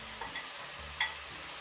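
Peppers added to steak and onions frying in a pan, a steady close sizzle with a light stirring scrape and a soft clack, no talking.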